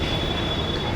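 A metro train at Yeshwantpur metro station gives a steady, close rumble of rolling wheels with a thin high whine running over it for the full second.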